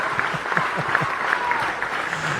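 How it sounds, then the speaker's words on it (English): A crowd breaks into steady, rippling applause at moderate distance, fairly soft and even throughout, with a few low vocal bursts mixed into the clapping. "That crowd goes wild again."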